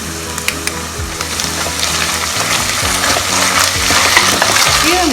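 Onion with ginger-garlic paste sizzles and crackles steadily in a frying pan for a fish curry, a loud continuous hiss with occasional stirring scrapes and no talk.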